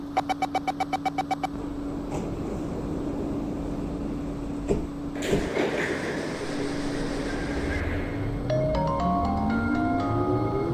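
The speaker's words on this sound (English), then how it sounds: "Doors are closing." In a train simulator game, a rapid series of warning beeps plays, then Kawasaki-CRRC C651A metro train doors slide shut with a thud over steady carriage hum, followed by a rising motor whine as the train departs.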